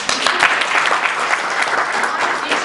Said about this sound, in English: Can you clap to him?